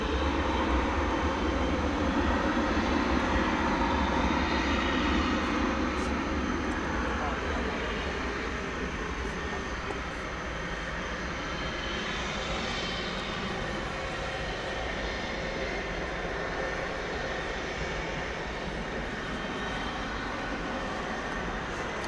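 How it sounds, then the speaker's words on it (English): American Airlines Boeing 737-800 rolling for takeoff at DFW Airport, a broad steady jet-engine roar heard from a distance that holds for about twenty seconds, easing slightly toward the end. "American Flight 1092 is rolling there. It's a 737-800 off to El Paso."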